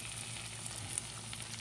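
Handvo batter sizzles on a hot tava, a steady, even frying hiss with a faint crackle, close and uninterrupted throughout.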